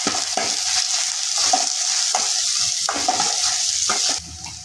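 Spices, onion and dried red chillies for masala dosa filling sizzle steadily in a hot pan while a spoon scrapes and stirs in repeated strokes, close and continuous.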